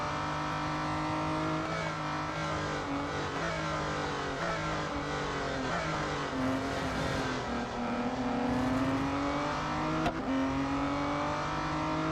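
Racing car engines in the Real Racing 3 mobile game during a night race, a continuous loud engine drone with rising and falling revs as gears shift, other cars buzzing close by, steady throughout.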